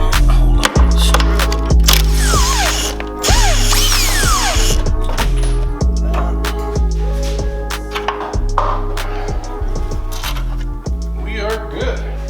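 A power tool removes the last bolts while a strut comes out of a New Edge Mustang being built for drifting. Close, loud bursts of whirring repeat with short pauses between them, and voices speak briefly.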